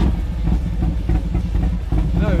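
A motorcycle engine idles at a big motorcycle rodeo event in Brazil, a low steady rumble running through the whole stretch, close and loud, with people talking over it.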